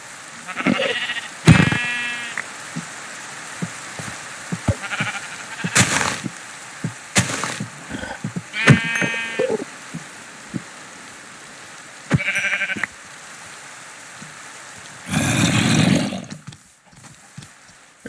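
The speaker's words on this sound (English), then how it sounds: "There's a lot of sheep." Sheep bleating repeatedly in a Minecraft modpack game, several distinct short bleats spread across the stretch with pauses between, plus a louder burst of noise near the end.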